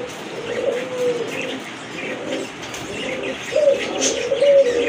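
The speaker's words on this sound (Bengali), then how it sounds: "মাশাআল্লাহ দেখার মতো এক জোড়া কবুতর" A pair of Lotan pigeons coo in soft, repeated rolling phrases close by, with faint chirps from other birds in the background and no talk.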